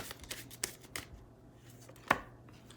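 Tarot cards are shuffled and drawn by hand in a quiet room, with a few soft card flicks and one sharp snap near the end standing out against faint background hum.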